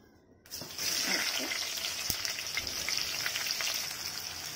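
Onions frying in a pan with red chili and cumin, a steady broadband sizzle that starts abruptly after a brief quiet moment and then holds evenly and fairly loud throughout, with no talking.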